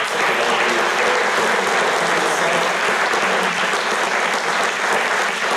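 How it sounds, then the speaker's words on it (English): Dense, steady applause from a PhoneGap Day US 2013 conference audience thanking sponsors, loud and continuous with no one talking over it. "a round of applause for these guys for sponsoring"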